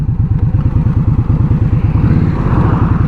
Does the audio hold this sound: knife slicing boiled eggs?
no